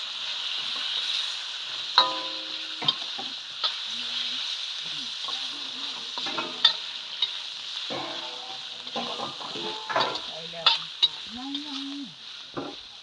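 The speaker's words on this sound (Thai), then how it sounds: "เหยาะเหยาะเหยาะเหยาะซีอิ๊วขาวเพิ่มความหอมให้กับการลวนหมูนั่นเอง" Steady loud sizzling of pork stir-frying in a pan with white soy sauce, with scraping stir strokes and someone talking over it.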